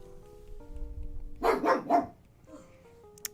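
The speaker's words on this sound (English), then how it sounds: "I'm not quite sure why Daruk's barking." A pet dog named Daruk barks in a quick burst of three loud, close barks, with a quieter yip after, heard over soft electronic game music playing in a room.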